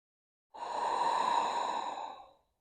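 One slow, deep exhale during a yoga stretch, a long smooth breath of about two seconds, close and alone in a quiet room.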